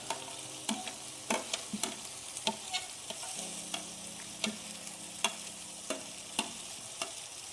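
Tomato puree cooks in oil in a pan for fish curry, giving a soft, quiet sizzle punctuated by sharp, regularly spaced spoon taps and scrapes against the pan, with no one speaking.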